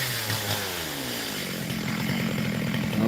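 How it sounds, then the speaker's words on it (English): Chainsaw running loud and close during farm land clearing, a continuous steady engine roar with a slight rise in pitch toward the end. "I have to put something in my ears because of the loudness of the chainsaw"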